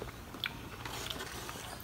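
Someone bites into a coffee-flavoured 3D jelly dessert, giving a brief soft, wet bite near the start, then quiet, moist chewing up close with no talking.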